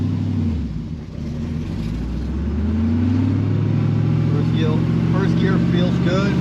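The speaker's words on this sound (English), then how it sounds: "Throw it in first gear." A 1977 Chevrolet Corvette pulls away in first gear on a test drive, its engine note climbing steadily in pitch as it accelerates, loud and close from inside the car.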